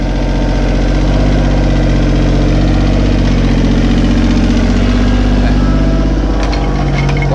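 A Kubota 30-series mini excavator engine runs at a steady idle, a loud, close, continuous diesel rumble with an even knocking pulse throughout, and no voices over it.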